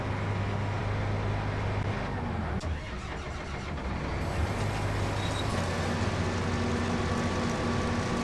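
A tractor engine in the Farming Simulator 19 video game runs steadily at idle, a loud, continuous mechanical drone with a brief dip partway through and no talking.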